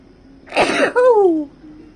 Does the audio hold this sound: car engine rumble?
no